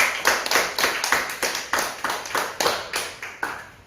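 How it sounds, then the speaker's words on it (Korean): A church congregation claps in thanks to God during a Sunday service, a steady, rhythmic beat of many hands close and loud, with no talking over it. "우리 앞으로도 또 주실 그 하나님께 감사의 박수를 하나님께."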